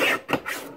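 Close, dry rasping of dark blue patterned paper being cut for a Shibori page kit, in three short scraping strokes with brief gaps between them.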